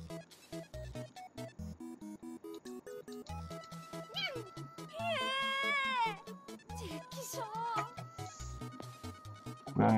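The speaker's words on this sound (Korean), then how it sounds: "고양이를 건드리니까 화냈네요." Cat meows angrily in an escape room video game, several drawn-out, rising meow calls over steady game music, loud and close.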